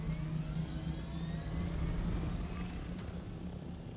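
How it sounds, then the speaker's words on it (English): A helicopter flies in a desert survival video game, its steady rotor and engine drone filling four seconds with a continuous low throb and rising whine. "Well, that's a helicopter."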